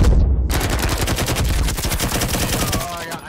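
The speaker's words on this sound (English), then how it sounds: "He's getting shot at." Rapid automatic gunfire in the PSVR multiplayer shooter Firewall Zero Hour, loud and sustained bursts of shots filling nearly the whole moment, with no talk over it.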